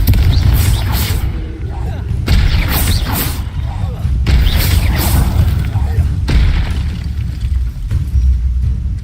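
Confringo fire-blast spells in the Hogwarts Legacy game, a series of heavy booming impacts roughly every two seconds over a constant rumbling background, with a voice speaking in between.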